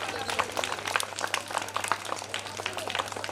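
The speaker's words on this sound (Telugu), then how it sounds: "చప్పట్లు కొడదాం. చప్పట్లు చప్పట్లు." Children at a school Christmas event clap together, brisk irregular hand claps from a small group nearby, mixed with voices talking.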